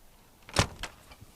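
An aircraft baggage door slams shut with one sharp, heavy bang, followed by a couple of quieter rattling clicks as it settles.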